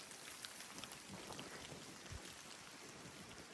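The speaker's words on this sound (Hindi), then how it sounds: "बारिश हो रही है बहुत तेज।" Heavy rain pours down steadily, a dense continuous hiss of drops striking surfaces close by, with no voices.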